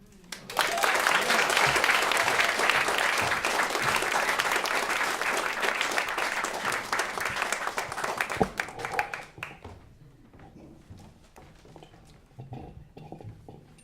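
An audience applauds after a poetry reading, with dense, sustained clapping for about eight seconds that thins into scattered claps and fades, followed by quieter room sound with a voice near the end.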